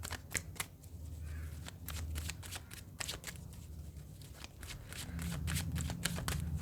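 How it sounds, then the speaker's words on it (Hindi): Tarot cards being shuffled by hand in repeated quick riffling bursts, crisp and close, with a steady low hum underneath and no talking. "फाइनल शफल बाबा जी"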